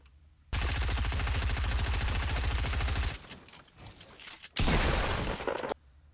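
Rapid automatic gunfire spraying in Fortnite Battle Royale: a loud, continuous stream of fast shots lasting about two and a half seconds, a brief lull with softer noise, then another dense burst before cutting off.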